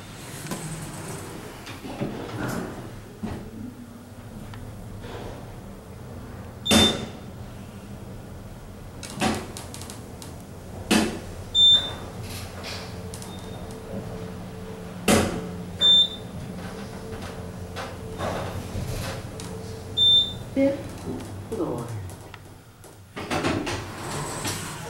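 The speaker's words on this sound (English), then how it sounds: "As you may hear, the machines on these are quite noisy, and like with most newer Otis elevators, they like to close up very quickly." Otis Gen2 elevator doors and machinery in a new advanced technology center, with several sharp door thumps and clunks, chimes, and a steady mechanical hum from noisy machines as the doors slide and close quickly.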